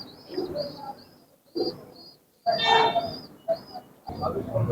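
Pigeons on a rooftop garden atop a four-storey house, part of a flock of about forty-five to fifty birds, coo in short repeated bursts close by, with people talking between and over the calls.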